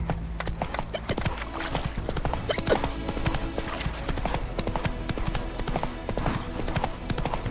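Hooves of Roach, the horse in Witcher 3, clop in a steady trotting rhythm, close and prominent, with a brief whinny-like sound mixed into the game ambience and no talking.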